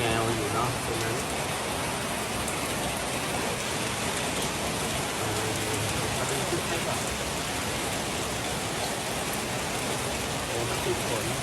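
Continuous heavy rain pours outdoors as a loud, dense hiss across the whole stretch, with a person briefly speaking over it.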